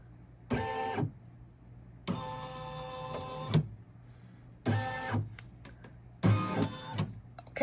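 An Embrilliance embroidery machine traces the needle around the hoop in four short motor whirs with pauses between them. The motor sound is close and fairly quiet, with faint clicks in the gaps.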